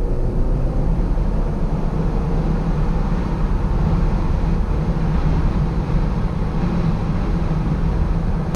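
A turbocharged engine in a 2019 Jeep Wrangler Rubicon with an 8-speed automatic pulls under acceleration, a loud, constant low rumble and drone heard from inside the cabin with no talking.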